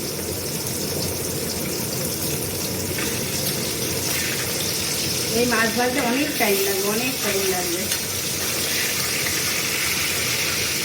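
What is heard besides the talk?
water running onto mutton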